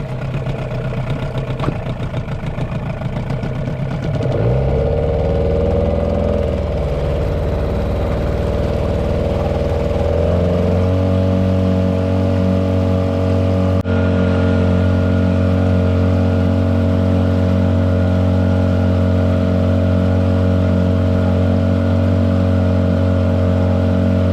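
A Hangkai outboard motor on a Kitt Boats 330 PVC inflatable boat runs steadily through break-in, its engine note stepping up in pitch around the fifth and tenth seconds, then holding a loud, even drone to the end.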